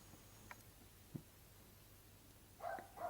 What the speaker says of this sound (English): He started barking again.